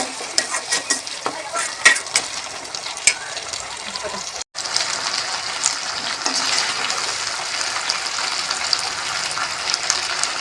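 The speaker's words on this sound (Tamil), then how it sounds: "சுண்டைக்காயை கொஞ்சம் நல்லா வதக்கிக்கோங்க" Turkey berries sauté in a hot pan for kuzhambu, a spoon scraping and stirring with quick clinks over a continuous sizzle that swells into a steady frying hiss, close and alone.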